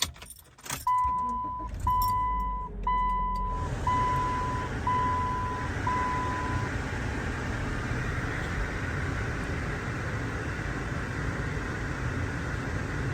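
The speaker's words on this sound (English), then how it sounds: "I'm gonna turn on my car." A car is started nearby with keys jangling first, a run of steady electronic warning chimes, then the engine catches and settles into a constant idle hum that continues to the end.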